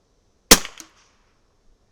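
A single sharp .22LR rifle shot fired while zeroing a scope, loud and close, with a short decaying tail and a faint echo just after, then silence.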